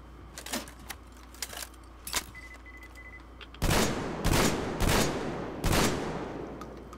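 Weapon reloading in Metro Exodus: a string of close mechanical clicks and rattles, then four loud, sharp clacking bursts in succession, with no talk.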